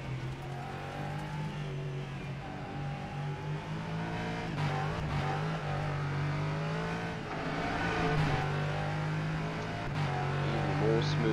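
LMP3 race car engine in rFactor 2, pulling hard with a steady, loud droning roar that rises and dips between gear changes at Sebring in the rain, continuous throughout, with a voice talking over it.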